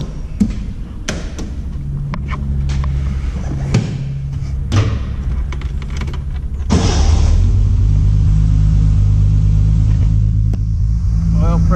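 A 1975 Triumph TR6 with a freshly built, unrestored engine cranks with several uneven thumps and clunks, then catches and settles into a steady, loud, rumbling idle close by.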